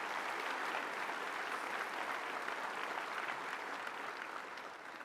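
Sustained, dense clapping from a gala audience at the Public Justice awards presentation in Chicago, steady and even throughout, easing slightly toward the end, with no talk over it.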